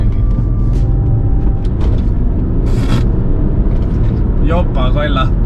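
A blue Audi pulls away with a loud, constant low engine rumble close by, while voices talk over it.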